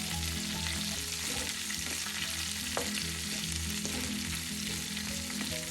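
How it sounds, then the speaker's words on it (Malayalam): Curry leaves fry in a pan for a curry leaf chutney, giving a dense, continuous close-up sizzle with faint scraping from stirring and no voices. "കറിവേപ്പില ഒന്ന് ഇളക്കി കൊടുക്കാം"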